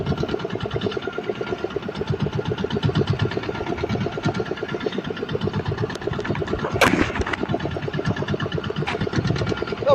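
A fishing boat engine idles steadily with a fast, even knocking throb while the net is hauled, loud and close throughout, with one brief sharp clank partway through.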